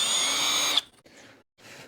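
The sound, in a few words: drill countersinking screw holes in guitar body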